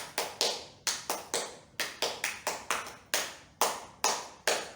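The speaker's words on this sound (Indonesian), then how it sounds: "Yuk, kita coba bareng ditirukan di rumah, tepuk pramuka." Scout rhythmic clapping (tepuk pramuka) played as sharp, close hand claps in a patterned sequence of short bursts and pauses, heard on its own without any talk.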